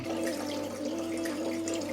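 Homemade limoncello poured through a funnel into a bottle gives a steady, continuous liquid gurgle with a resonant tone that fills the whole short moment, up close and alone.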